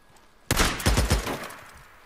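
A sudden loud volley of gunfire from the video game Days Gone erupts after a quiet moment, several quick shots in a short burst, then fading.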